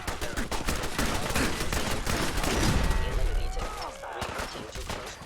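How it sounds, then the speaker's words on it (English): Rapid automated turret gunfire in Fallout 4, dense bursts of shots rattling continuously at close range, with a brief exclaimed voice over the shooting. "except the turrets, those shoot at me"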